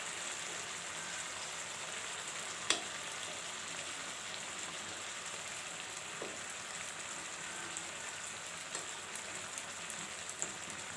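Thinly sliced potatoes frying in oil on a tawa give a steady, soft, even sizzle with fine crackling, faint and continuous throughout with an occasional sharper pop.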